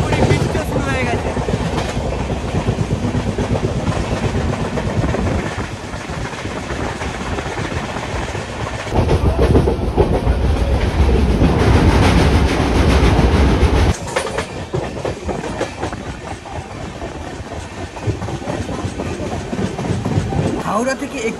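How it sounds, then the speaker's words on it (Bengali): Tamralipta Express train running at speed between Howrah and Uluberia in cloudy, drizzly weather, with a steady, loud rumble and rhythmic wheel clatter throughout. The noise swells in the middle and then eases back. "ভালো স্পিডে কিন্তু ট্রেন চলছে"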